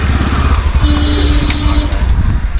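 A motorbike carrying a father and small son rides along a road, its engine droning steadily and loudly close by, with wind rush and traffic noise around it and faint voices under the engine.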